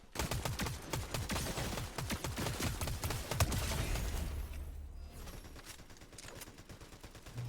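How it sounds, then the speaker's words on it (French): Rapid bursts of video-game gunfire crackle in dense volleys for about three seconds, then a sustained rumble and scattered shots trail off, with no talk over them. "J'entends des tirs."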